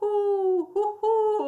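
A human voice imitates an owl's hoot with three drawn-out, low, tonal calls, the first long and the next two shorter, delivered close and clear with slight pauses between them.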